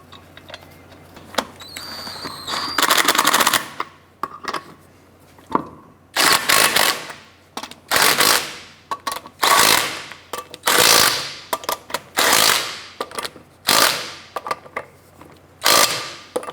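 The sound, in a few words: torque wrench tightening wheel lug nuts on Chevrolet Impala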